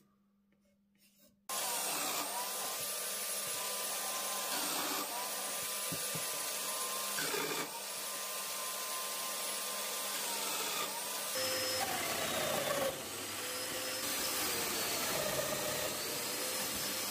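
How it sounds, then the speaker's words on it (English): A Festool Domino joiner whines loudly and continuously for several seconds while cutting mortises, with brief dips in pitch between passes, close by. "Now I'm going to use the Festool domino to do the joinery."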